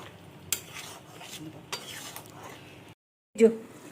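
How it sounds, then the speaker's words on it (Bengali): Spoon stirring fresh cream into Pakistani chicken reshmi in a pan, with soft scraping and clinks against the metal, a faint sizzle underneath, a brief pause, then one louder scrape. "এই যে ফ্রেশ ক্রিম রয়েছে ভালো করে মেশাতে হবে ক্রিমটা"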